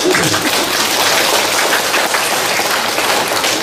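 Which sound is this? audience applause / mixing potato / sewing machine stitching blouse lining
audience applause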